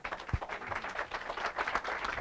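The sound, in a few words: audience applause for panelists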